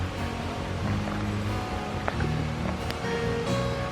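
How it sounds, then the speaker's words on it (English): Steady rushing water from a waterfall in Northumberland National Park, a broad continuous wash heard from nearby with faint rustling and occasional small knocks, no talking. "I can hear rushing water"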